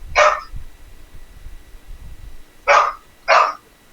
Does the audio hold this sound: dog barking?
yes